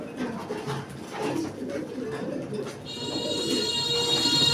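Soft pigeon cooing from loft birds, low murmuring coos under steady room noise, with a faint high-pitched whine joining in the last seconds.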